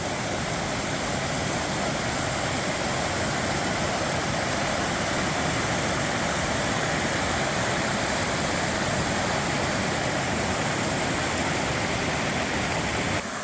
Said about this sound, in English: It's like a fantasy world of miniature waterfalls.